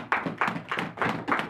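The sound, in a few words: congregation clapping in church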